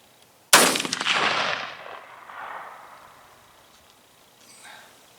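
A single loud, sharp crack from an old hunting rifle fired at a target, followed by a long rolling echo that decays over several seconds outdoors, then a faint brief rustle near the end.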